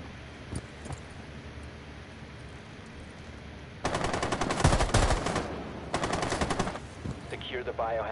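Light machine gun fire in a video game, rattling in two sustained bursts of rapid shots in the second half, loud and close over a low background rumble.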